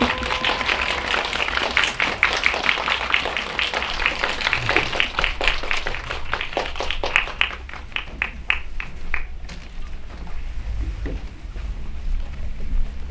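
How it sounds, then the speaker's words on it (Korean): Cinema audience applauding to welcome actress Sim Dal-gi to her seat at an opening-day audience talk for the film Dustman. The clapping is dense and steady, then thins out and fades into low room noise. "심달기 배우님은 여러분과 같이 영화를 보셨어요. 그래서 자리로 나와주시면은 큰 박수 부탁드리겠습니다"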